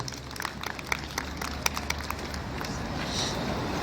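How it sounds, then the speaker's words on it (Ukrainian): Crowd applause from an outdoor audience at a Cossack Day stage event on Maidan, a dense steady patter of many hands clapping for about four seconds with scattered sharper claps, moderately loud and continuous. "Ваші оплески, будь ласка."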